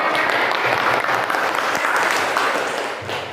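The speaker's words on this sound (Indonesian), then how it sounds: "Kasih aplaus buat semuanya." A classroom of students applauds after class presentations, with dense, steady clapping from a small group close by that tapers off toward the end.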